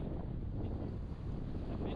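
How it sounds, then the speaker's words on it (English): Strong wind buffets the microphone on a beach in Crete on an April day, a steady loud roar with surf mixed underneath and no break throughout. "the waves are not that big compared to the wind that is blowing"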